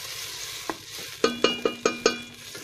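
Tomatoes and minced garlic go into a pan of frying meat, with a low sizzle under a quick run of five sharp, ringing spoon taps against the pan.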